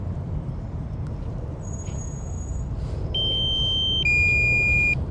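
High, steady electronic battery warning beeps from a drone sound over a constant low rumble of wind and motor noise above Chiswick, London, the tones stepping up in pitch toward the end.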